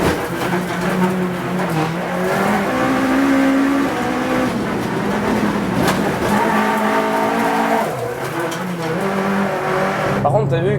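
Renault Clio IV RS Trophy on Michelin tyres driven hard, a loud close engine roar rising and falling with revs, brief tyre squeal as it slides and grips, and people talking over it.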